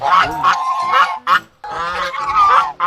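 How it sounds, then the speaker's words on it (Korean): A goose honks loudly and repeatedly at close range on a coffee farm in central Vietnam, its harsh nasal calls coming in two long runs separated by a brief pause. "뭐야 이거 거위도 있네"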